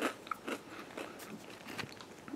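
Someone bites and chews small crunchy cinnamon puff snacks close to the mic, producing a run of sharp crisp crunches in an irregular rhythm, fairly quiet with no talking.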